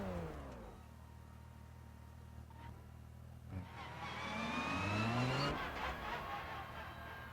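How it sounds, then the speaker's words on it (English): A race car engine in the RennSport racing game turns over and settles into a steady idle, then rises briefly with a revving swell before dropping back, with no speech. "let's get that engine start"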